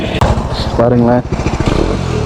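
A Bajaj Dominar 400 motorcycle engine runs close by with a steady, throaty idle and a brief rev in the middle, while someone talks over it.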